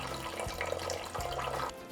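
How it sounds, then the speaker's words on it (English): Water pours steadily from a tap into a rice cooker pot for sweet sticky rice, a continuous close splashing fill with a brief pause and no talk. "we're going to add water"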